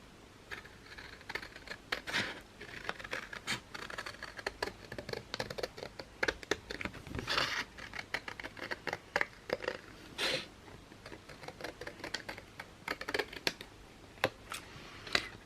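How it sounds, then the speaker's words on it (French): Scissors cut paper for an album template in a run of short, crisp snips and rustles, irregular and close, with brief pauses and paper handling between the cuts. "Maintenant, je vais prendre un ciseau. Je veux découper."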